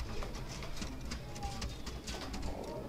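Domestic female pigeon cooing softly at close range, low repeated coos over steady background noise, with faint bird calls around and no speech.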